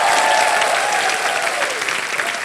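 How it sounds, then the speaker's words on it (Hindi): A studio audience on a TV word-wheel game show bursts into loud, dense applause, continuous and close throughout, with a brief voice rising over it at the start. "जोरदार तालियां"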